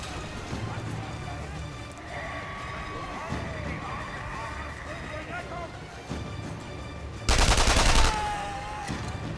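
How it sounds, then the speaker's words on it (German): A tank firing in the video game Sniper Elite 3, a single loud, sharp blast followed by a short rumbling tail, heard over steady background battle noise and someone talking. "der Panzer ballert auch nur, um mich Angst zu machen, oder?"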